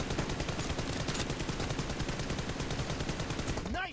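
Rapid, loud sniper and automatic gunfire in the mobile battle game PUBG Mobile, a dense continuous volley of shots lasting several seconds before cutting off abruptly.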